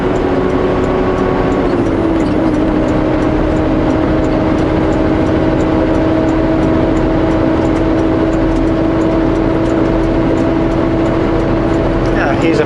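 A vehicle climbs a mountain pass with a steady engine drone and road roar, the pitch shifting slightly, while someone talks over it throughout.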